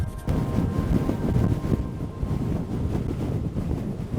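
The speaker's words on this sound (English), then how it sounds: "But the wind is just too strong." Strong wind buffets the microphone on a German mountaintop, a loud, steady low roar with gusting rumble that runs throughout, with no voices.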